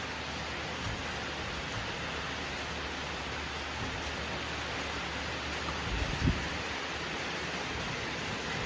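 A short rain shower falls steadily, a dense and even hiss of drops that stays loud throughout, with a faint low thump shortly before the end.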